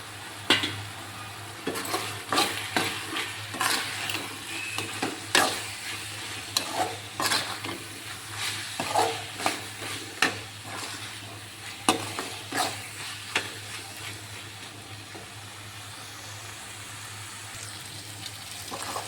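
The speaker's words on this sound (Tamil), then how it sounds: "மிளகாத்தூள் பச்சை வாசனை போகிற வரைக்கும் நல்லா வதக்கிட்டுருக்குங்க" Prawn gravy with chili powder stirred and sautéed in a pan, a steady low sizzle broken by repeated scraping and stirring clatters of a spoon against the metal, close and alone.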